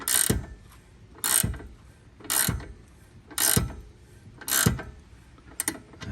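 Ratchet clicking while backing out a pinch bolt on the front control arm of an Audi B8, five short loud bursts of ratcheting at steady intervals, close up with no talking.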